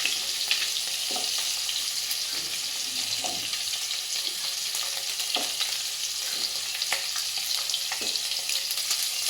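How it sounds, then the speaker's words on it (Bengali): Lentil dumplings (bori) fry in oil alongside fish in a pan for a fish and potato curry, giving a steady close sizzle with occasional soft bubbling pops and light crackles. "বড়িগুলোও ভাজা হয়ে যাবে।"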